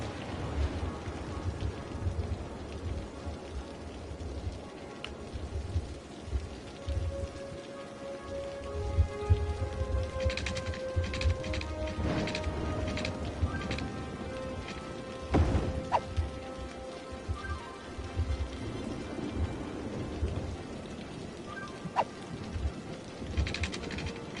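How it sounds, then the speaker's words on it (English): Steady patter of heavy rain on surfaces with low rumbling thunder rolling through, a louder crack around the middle, no voices, in the video game Cities Skylines on PS4. "This thunder really is no fucking joke."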